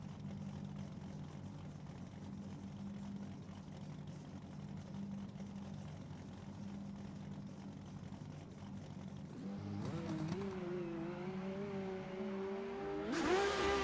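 Toyota GR Corolla and BMW E30 drift cars idling as a steady low engine drone, then revving up with rising engine pitch near the end, heard from a distance at a drift competition.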